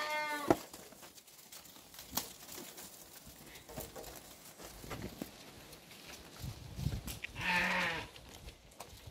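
A sheep bleats in a pen on a farm in Alagoas offering flocks for sale, a few short wavering calls early and late, fairly close, over low rustling farmyard background with no talk.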